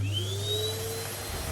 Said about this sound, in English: Vacuum cleaner's plugged in.